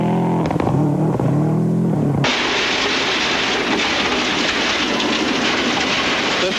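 A rally car at the 2004 Hawkes Bay round runs over a thick, soft gravel road. An engine note rises and falls at first, then gives way to a loud, sustained hiss of spraying stones beneath the car.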